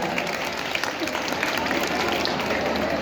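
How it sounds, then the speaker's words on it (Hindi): Loud, dense applause from a college annual function audience welcoming a guest official, a continuous close wash of clapping with scattered sharper claps across the whole stretch. "जोरदार ताली बजा के स्वागत कीजिएगा"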